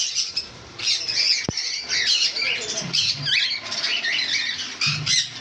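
Many small caged birds chatter and squawk at once, a busy, high-pitched flurry of calls that continues throughout, with a few soft knocks underneath.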